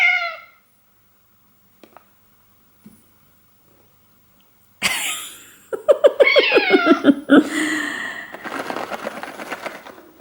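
A pet cat meows several times in a string of loud, close, drawn-out cries after a few seconds of near silence, with short soft bumps before them.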